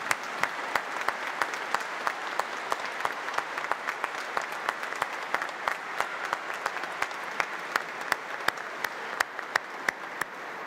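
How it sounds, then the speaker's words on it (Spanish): Congregation at a Catholic Mass applauding in steady, continuous clapping with a few sharper claps standing out, sustained throughout at moderate volume. "Le damos un fuerte aplauso nuevamente a nuestra madre."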